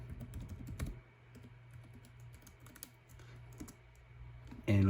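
A password is typed on a computer keyboard as a quick, irregular run of soft key clicks at close range, with a louder knock at the very end.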